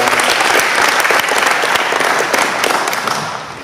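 Loud, close applause fills a club-day meeting room of around a hundred people, thick continuous clapping that stays strong before easing slightly near the end.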